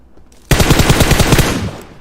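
Rapid automatic gunfire in PUBG Mobile, a loud burst of evenly spaced shots that starts abruptly and rattles on for about a second and a half before trailing off.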